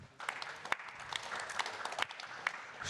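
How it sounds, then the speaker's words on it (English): A live audience claps in applause at a robotics event, a dense, steady patter of many hands with a few sharper claps standing out. "So please give him a round of applause again."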